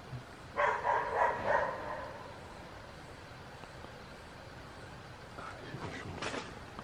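A dog barks several times in a quick burst, fairly faint and somewhat distant, then a few softer barks follow after a quiet pause.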